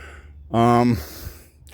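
A heavy, voiced exhale like a sigh or groan from a hiker out walking on Independence Day at the Eugenia Williams House grounds, one loud, close breath lasting about half a second, then quieter breathing.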